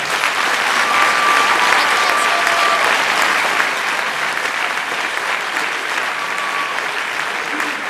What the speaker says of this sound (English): I'd like to start the show by applauding the entire class.